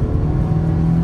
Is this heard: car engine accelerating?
yes